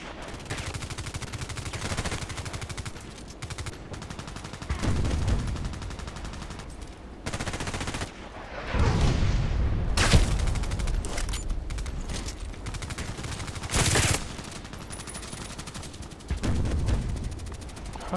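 Gunfire in an online shooter match with an SV98 sniper rifle on the Site map: repeated bursts of automatic fire and sharp single shots, some loud and close, others farther off, with brief quieter gaps.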